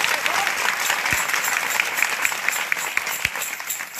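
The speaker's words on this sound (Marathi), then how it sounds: "त्यांच्याकरता एकदा टाळ्या वाजवा." A crowd at a kirtan gathering claps in unison, a dense, steady burst of applause heard close and continuous for a few seconds with no talk over it.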